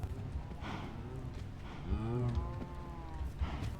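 Cows in Minecraft moo close by, several drawn-out lowing calls overlapping one another over a faint background, with no talking.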